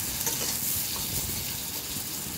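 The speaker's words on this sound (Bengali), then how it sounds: "তো হলুদ দিয়ে বেগুনগুলো একটু ভেজে নিয়ে তুলে রাখবো।" Eggplant frying with turmeric in hot oil gives a steady, dense sizzle that carries close and continuous through the whole stretch, with no voices.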